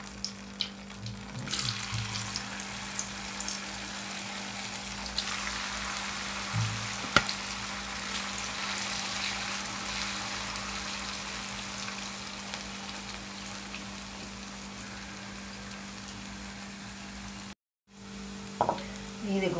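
Cauliflower pakoras fry in hot oil, giving a faint, continuous hissing sizzle with a low steady hum underneath, and a brief gap shortly before the end.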